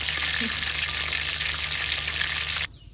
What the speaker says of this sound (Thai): กระทะตอนนี้เหลือแต่ไก่ว่าจะไหม้หรือเปล่า